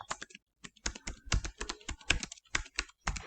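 Keys clatter on a computer keyboard as registration data is typed, a quick irregular run of crisp close clicks in short bursts with brief pauses.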